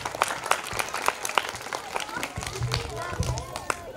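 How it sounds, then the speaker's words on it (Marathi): Audience applause at a National English Convent school inauguration, welcoming a guest: scattered, uneven claps from a crowd, moderately loud, mixed with some voices and rustle. "जोरदार टाळी वाजवून स्वागत करतो"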